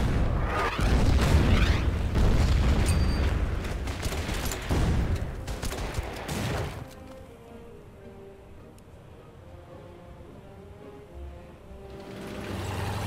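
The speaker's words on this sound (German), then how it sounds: "So, Artillerie." Artillery fire in the wargame Order of Battle: Red Steel sounds as a loud, dense barrage of booms and blasts for several seconds, then dies away into a quieter rumbling ambience that swells again at the end.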